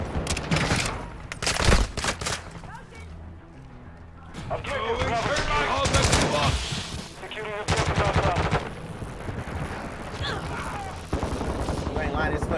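Automatic rifle fire from the Call of Duty Modern Warfare 2 beta, a multiplayer match: loud repeated bursts and sustained sprays of shots with heavy recoil, mixed with game effects and overlapping excited talk throughout.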